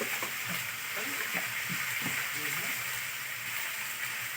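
Cut, washed potatoes fry in a pan with salt, giving a steady close hiss and sizzle throughout, with a low murmur of voice faintly underneath.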